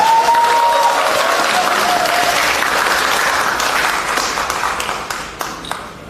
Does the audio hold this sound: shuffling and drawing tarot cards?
no